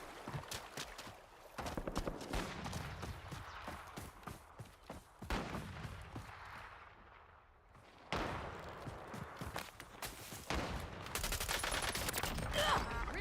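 Gunfire in the Warzone battle royale, repeated bursts and single shots across the whole stretch, some close and loud and others more distant, set against battlefield ambience with occasional talk.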